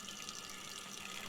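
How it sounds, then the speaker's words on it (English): Dripping water in the Train Simulator Classic video game, a steady watery splashing and trickling like a running tap, faint and continuous for a moment with no talking. "I love the dripping sound."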